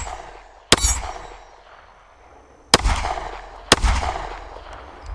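Three loud, sharp pistol shots from a Sig P365 XL at a shooting range, each a hard crack with a ringing tail, the first alone and the last two about a second apart.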